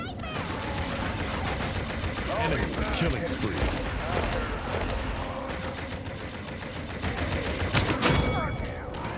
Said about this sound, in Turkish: Enderox'un silah sanki boşa sıkıyormuş hissi uyandırıyor bana